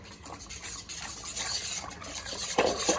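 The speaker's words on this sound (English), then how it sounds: "I'm going to take all this extra broth and pour it back in." Broth being poured and sloshing into a pot of acorn squash soup, with faint clinks of a utensil, quiet and close.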